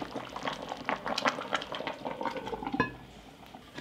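Pork simmers in a covered pot with no added water, a soft, steady bubbling and gurgling heard close up with no voices.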